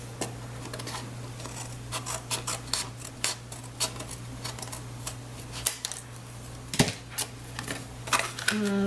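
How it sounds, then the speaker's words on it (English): Card paper trimmed by hand: a series of short, crisp snips and clicks at an uneven pace, close and quiet, over a low steady hum. "then we'll just trim the back of it"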